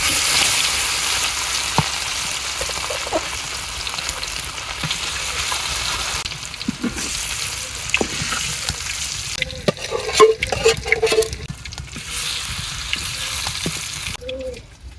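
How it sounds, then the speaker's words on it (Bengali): Fish frying in oil in a kadai wok in a village kitchen gives a steady, loud sizzle throughout, with a few utensil clinks and stirring scrapes near the end. "মাছ ভাজার লেগে এই কড়াইতে তেল দিয়ে দিলাম, এই কড়াইতে মাছ ভাজবো"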